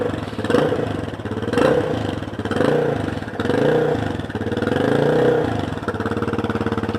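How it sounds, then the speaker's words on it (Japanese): A Yamaha BWS125X scooter engine fitted with a new aftermarket muffler idles and revs in repeated swells, a close, throaty drone rising and falling several times with no talking. "やっぱりいい音ですね。"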